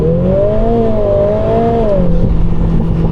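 Lotus Emira sports car launches hard under launch control with traction and stability off, engine rising loudly through the revs with a clear rising and falling pitch before settling into a lower steady tone.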